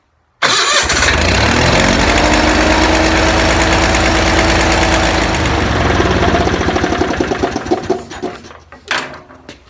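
A welder-generator engine starts up abruptly and runs loud and steady with a rattling chug, then sputters and winds down near the end.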